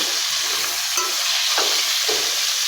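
Potatoes and onions frying in a pan over a low gas flame, with a steady loud sizzle broken by a few scraping stirs of a spoon.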